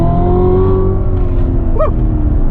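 A manual Callaway Corvette Z06 with a 757 hp engine accelerates hard, its loud, close engine note rising steadily in pitch through the clip.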